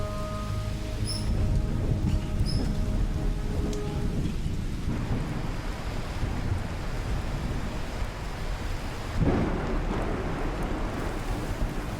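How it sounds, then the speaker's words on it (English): Heavy rain pours over Guyana's savannah while deep rumbles of thunder roll through, loud and continuous, with a fresh surge of downpour late on. "More rain clouds approaching, heralding a heavy storm."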